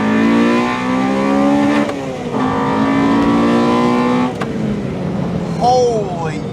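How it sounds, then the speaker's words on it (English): A high-pitched Honda DC2 Integra Type R VTEC engine screams up through the revs, breaking at two gear changes into fresh rising wails, with a voice calling out near the end. "That is unquestionably the loudest VTEC I've ever heard"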